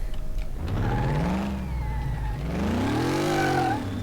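A car engine in a mechanic simulator video game, built as a high-horsepower machine, revs up and down in loud sweeping pitch rises that continue steadily throughout with no talking.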